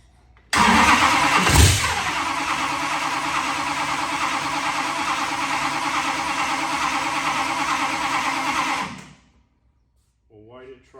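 A long-idle 1941 Willys engine cranks, briefly catches with a loud burst, then churns on steadily for several seconds before cutting out and dying into silence.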